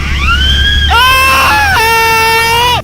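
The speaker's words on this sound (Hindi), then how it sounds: "हादसे के बाद वहाँ चीख पुकार मच गई।" Loud, high-pitched screams and wailing cries from people at a parasailing accident just after the tow rope snapped, sustained and close, rising and falling across several voices with no talk over them.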